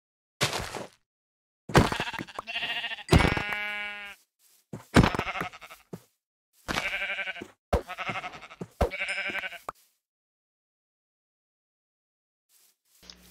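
A brown sheep in a video game bleats repeatedly in loud, close, wavering calls spaced a second or so apart, then silence falls.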